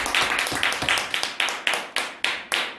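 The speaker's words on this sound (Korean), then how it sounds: "우리 다 같이 영광의 박수 올려드리겠습니다." Church congregation clapping together at a Sunday worship service, steady rhythmic claps repeating roughly every third of a second, close and fairly loud with no talking.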